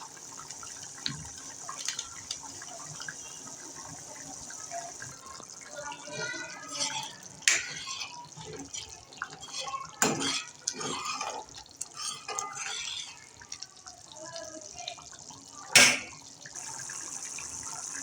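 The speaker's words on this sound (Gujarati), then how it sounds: "હવે પાણી સારી રીતે ઉકળવા લાગ્યું છે" A pot of water bubbles at a steady boil while Patan-style peanut bhajiya curry is being made, with soft dripping and splashing, sharper clinks now and then, and a voice over it.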